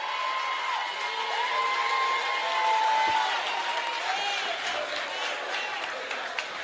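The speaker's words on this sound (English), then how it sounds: "A round of applause." A town hall audience at a People's National Party meeting gives steady applause that rises and falls over several seconds, with scattered voices and whoops mixed into the clapping.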